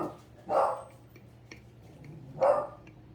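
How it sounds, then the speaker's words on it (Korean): Pet dog barking indoors, two short separate barks about two seconds apart, moderately near over a quiet background hum. "지금 강아지 소리 났죠?"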